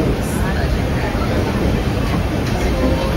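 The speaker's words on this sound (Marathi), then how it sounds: "चला निघाली गाडी आमची" A Jan Shatabdi Express train on the Konkan Railway from Mumbai to Ratnagiri rumbles steadily from inside a carriage as it departs, a continuous loud, low roar with faint background chatter.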